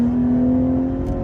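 A BMW G30 540i rated 530 hp pulls hard at full throttle in fourth gear up a winding hill road, its engine holding a loud, steady, even drone without a break.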